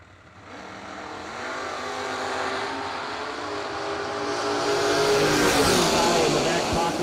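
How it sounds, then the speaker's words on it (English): A 1967 Dodge Coronet and a 1991 Camaro launch down a drag strip at a Christmas bracket racing event, a roaring engine noise that swells and holds loud through the run while an announcer talks over it. "Craig Schober, 67 Coronet. Dials up 624. James Bunner Jr., 574 the dial in his 91 Camaro"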